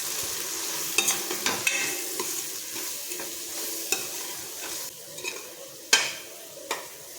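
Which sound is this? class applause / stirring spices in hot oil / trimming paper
stirring spices in hot oil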